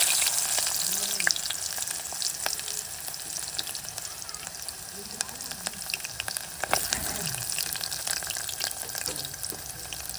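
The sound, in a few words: onions frying in hot oil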